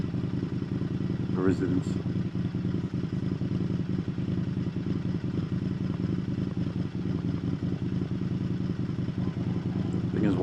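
An Indian FTR1200 motorcycle with a quiet exhaust idles steadily and close by, a low, even rumble running throughout while a person talks briefly over it.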